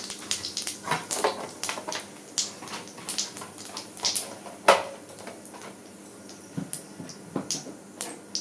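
Cumin seeds and a cardamom pod hit hot oil for tempering, setting off a busy run of sharp crackles and pops over a soft sizzle, close-up and steady for several seconds without any speech.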